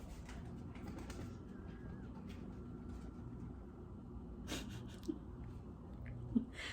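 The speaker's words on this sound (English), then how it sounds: "Damn pigeons are just like" Pigeons cooing outside a house: soft, low repeated coos under a quiet background hum, fairly faint and at a moderate distance.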